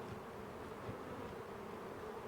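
Many honeybees drone as they return to a crowded hive entrance, a faint but steady buzzing that stays level and alone for a couple of seconds.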